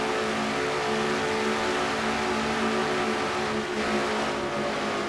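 Stock car engines scream at high revs in a NNSCRA Castrol GTX Cup Series race, a loud continuous multi-car roar with steady harmonic whine filling the whole stretch, no talking.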